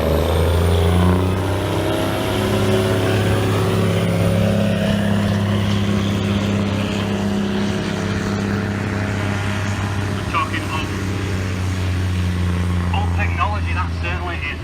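Tractor engine hauling a weight box at a tractor pull at a rally, a loud steady heavy diesel drone with a deep rumble throughout, with a few brief clatters near the end.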